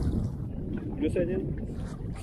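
A large packraft moves on open water, with soft splashing and wind buffeting the microphone. Someone speaks briefly over it.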